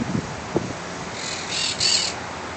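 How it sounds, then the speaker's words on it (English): Several parrots calling from a big old oak tree outdoors, harsh squawking bursts that come through faintly in two short stretches over steady background hiss. "There's five parrots in this big old oak tree."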